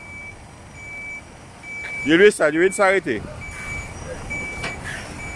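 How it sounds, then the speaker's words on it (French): A delivery truck backs up on a farm road in Martinique, its reversing alarm beeping in a steady run of loud, close pulses while people talk nearby. "le camion va devoir faire une marche arrière pour pouvoir alimenter un de ses clients"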